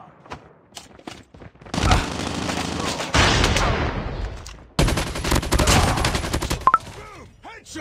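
Gunfire in a Call of Duty video game: sharp shots, then dense rapid automatic bursts that stop and resume, with short shouted voices between bursts.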